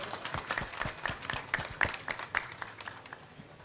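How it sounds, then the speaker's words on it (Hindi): Scattered hand claps from a small crowd at a blood donation camp, quick and uneven, moderately distant, with faint voices underneath. "दत्तू जी भी ताली मार रहे हैं।"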